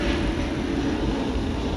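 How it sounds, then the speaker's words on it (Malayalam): A continuous broad roar of an airplane passing overhead, steady and fairly loud with no voices. "ഒരു ഫ്ലൈറ്റ് പോയതാണ്."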